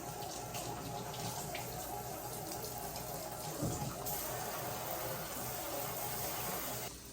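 Tap water runs steadily into a sink while plant trays are washed out, a continuous close splashing wash that holds at an even level throughout, with no talk over it.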